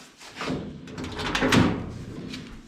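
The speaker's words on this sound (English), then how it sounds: "let me show you the door opens and shuts." Door of a Ford Bronco being opened and then shut, a few moderate clunks and latch sounds close by with the heavier shutting thud near the middle, no talking.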